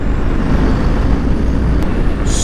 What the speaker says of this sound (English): you just twist the throttle, it just takes off